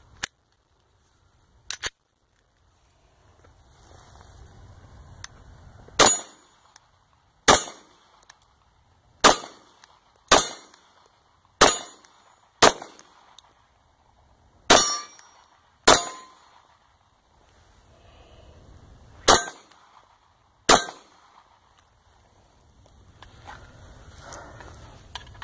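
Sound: FNX-45 pistol shots at targets

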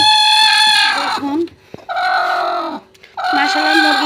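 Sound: chickens clucking as a hen is set on eggs

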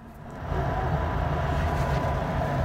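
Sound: train moving on rails

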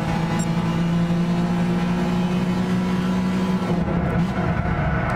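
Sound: race car engine in the video game Gran Turismo 6

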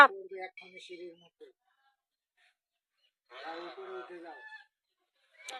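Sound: geese chasing and calling

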